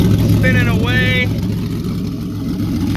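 A freshly built turbocharged 3.7L V6 Ford Mustang S550 idles right after its first startup, a steady, close, loud, rough idle with a brief whistling whine early on.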